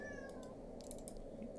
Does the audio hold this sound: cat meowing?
yes